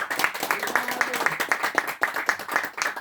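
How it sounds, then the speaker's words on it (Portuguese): An audience at a music school lecture claps for a saxophonist and conductor, a brisk, moderately close patter of hands with uneven bursts that runs steadily throughout. "Vamos dar uma salva de palmas para o maestro"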